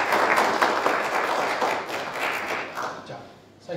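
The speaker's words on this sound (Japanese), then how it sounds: "では二人のゲストにもうちょっと拍手をお 願いします。" An audience at an international community power conference film talk gives a burst of sustained applause for two guests, loud and steady before tapering off near the end.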